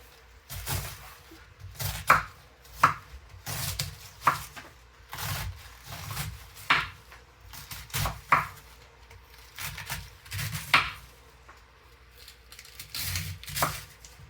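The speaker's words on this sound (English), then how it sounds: "shred the cabbage into strips" A knife chops cabbage into strips on a board for a ham and cabbage stir fry, giving irregular sharp thuds spaced about a second apart, close and fairly loud, with no voices.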